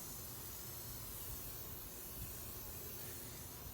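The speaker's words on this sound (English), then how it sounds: "Doing this outside because it is a spray paint" Spray paint hissing steadily from an aerosol can onto a hammered copper planter outdoors, a continuous close, even spray with no pauses.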